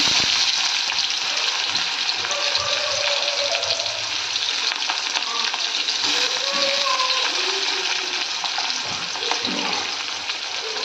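Finely chopped onion frying in hot oil with a bay leaf, a steady loud sizzle running throughout with occasional stirring scrapes, while a voice talks over it in places.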